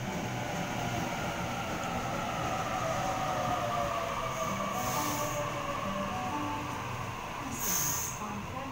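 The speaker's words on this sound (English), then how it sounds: "Waratah arriving." A Sydney Waratah electric train arrives at a suburban station platform, its steady rumble and wheel noise rolling on throughout, with a couple of brief high squeals or chimes cutting in partway.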